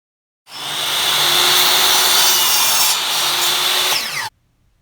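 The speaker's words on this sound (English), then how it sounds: "we have to score the quarter round and take off the quarter round in the trim" A rough, grinding scrape of a tool scoring wooden quarter round trim, starting abruptly, holding steady and loud for about four seconds, then stopping.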